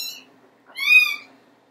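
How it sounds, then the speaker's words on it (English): Cats meowing indoors in the background: a short high meow followed after a pause by a longer, louder drawn-out meow, fairly clear with no talking. "I can't go a vlog without these cats yelling in the background"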